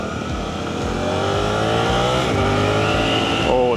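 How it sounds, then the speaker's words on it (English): Suzuki GSX-8R motorcycle engine pulling hard and climbing in pitch, a steady loud rising drone, then a quick gear shift near the end. "Oh, that was a smooth shift."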